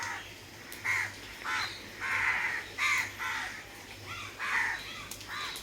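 Crows caw repeatedly from a tree in a ragged series of harsh calls, several birds overlapping, at moderate distance over a low background hum.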